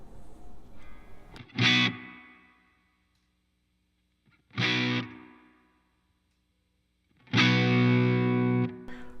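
Three loud electric guitar chords through a MojoHandFX Rock City Dual Overdrive pedal, each struck hard and left ringing before fading, with short silences between them.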